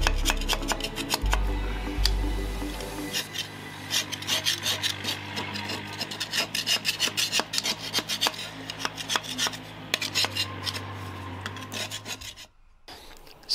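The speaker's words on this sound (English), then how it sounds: "The paint stripper has been left for about 45 minutes to do its work, and as you can see, it's scraping off in quite large amounts" Stripped paint is scraped off a Triumph Stag wheel in a series of close, gritty rasping strokes, irregular and repeated, with a low hum underneath during the first few seconds.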